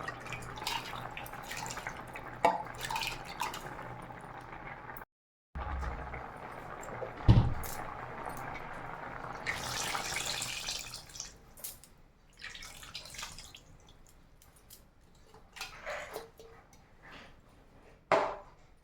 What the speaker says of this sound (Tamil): புளி தண்ணி சேர்த்தாச்சு